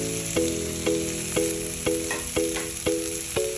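Tomatoes sautéing in a pan for chicken curry give a steady sizzle, with a spatula scraping in a regular rhythm about twice a second, close and moderately loud, no voices.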